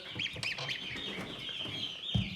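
Indian game (Asil) chicks cheep in repeated high peeps close by, with a steady chorus of chirping and a brief low thump near the end.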